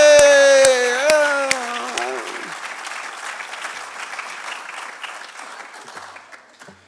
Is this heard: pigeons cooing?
no